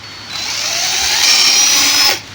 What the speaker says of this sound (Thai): นี่เจาะไว้ตรงกลางเลย